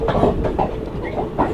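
Delhi to Bikaner SF Express train running through desert scrub, with a rhythmic, close rumble and clatter from inside the moving train, steady and fairly loud throughout.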